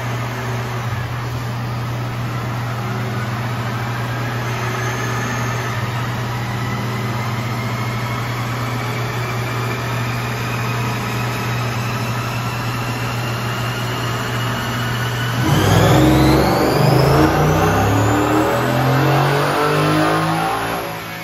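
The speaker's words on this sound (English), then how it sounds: "we'll do another back-to-back just to get our third pull" A 2022 Ford F150 on a dyno, its engine droning at a steady pitch for a long stretch while the tone slowly rises, then surging louder with a rising rev as it pulls hard near the end.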